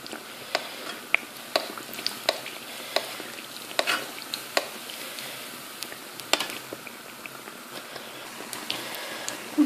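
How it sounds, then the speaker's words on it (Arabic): Matlou' flatbread frying in a hot pan with oil spooned over it gives a steady soft sizzle, punctuated by frequent light ticks and pops at an uneven rhythm, close and moderately quiet with no voices. "نحطوهم في مقلاة سخونة. من بعد كي تشوفوا بدا يتنفخو نرمي من فوق الزيت بهذه الطريقة"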